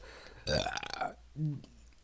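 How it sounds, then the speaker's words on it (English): One loud, close burp breaks out with a raspy, gurgling rattle, and a shorter voiced follow-up comes right after it. "excuse me, I just burped"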